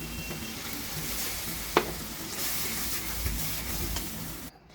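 Ground spice paste sizzling and frying in hot oil for a fish curry, a steady close crackling hiss with stirring, one sharp clink midway, cutting off abruptly at the end.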